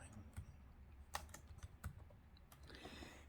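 Fingers tap the keys of an Asus Vivobook S15 S532EQ laptop in a quiet room, a handful of soft, irregular clicks spread over a few seconds, faint and close.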